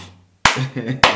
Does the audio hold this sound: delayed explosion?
no